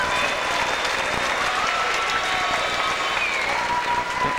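A crowd at a 1991 high school girls' state swimming and diving final claps steadily for a diver, a dense, even wash of applause filling a large, echoing indoor pool hall throughout.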